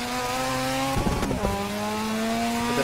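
Mazda RX-7 FD rotary engine revving hard toward redline at the Nordschleife in Assetto Corsa, a steady high-pitched engine whine with a sharp burst of crackling and tire noise midway, close and loud throughout.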